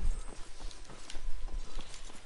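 A horse in Skyrim walks with a steady rhythm of close hoof clip-clops over a low game ambience, with no voices.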